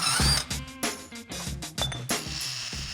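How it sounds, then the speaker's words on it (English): Wrench work loosens the bolts holding the bump stops on a junkyard postal Jeep, a steady run of close, sharp metallic clicks and clanks in an uneven rhythm. "First, I'll remove these bump stops by taking out a few bolts."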